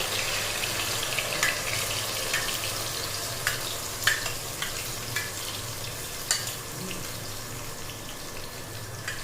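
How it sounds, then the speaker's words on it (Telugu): Onion paste fries in hot oil for a fish curry, giving a steady, dense sizzle with scattered small crackles and pops throughout, close and fairly loud, with no talking. "నూనె వేడైంది ఇప్పుడు మనము ఈ ఉల్లిపాయ పేస్ట్ని అందులో వేసుకోవాలి"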